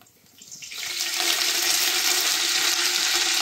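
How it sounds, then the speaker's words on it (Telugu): Garlic and curry leaves dropped into hot oil, the sizzle quickly swelling within the first second into a loud, steady, bright hiss that holds close and continuous to the end. "ఇప్పుడు వెల్లుల్లిపాయల్ని వేసేసుకొని అందులోనే కరివేపాకు"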